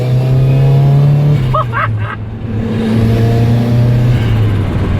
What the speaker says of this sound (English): So I guess I'll put it in second gear. So here we are then, guys. First pull with a turbo.